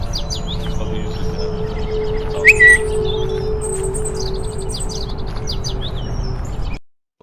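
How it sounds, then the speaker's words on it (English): Several birds chirp and sing in scattered bright calls over a steady low hum and background hiss, fairly close, before the sound cuts off abruptly near the end. "I'll show you the sound of the birds and things now."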